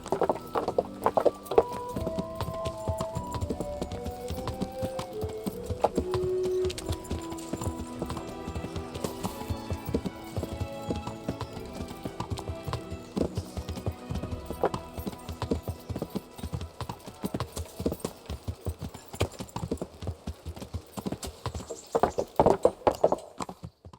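Hooves of a ridden horse clop in a steady rhythmic gait in the medieval game Kingdom Come: Deliverance, fairly close and prominent, layered over an orchestral music score.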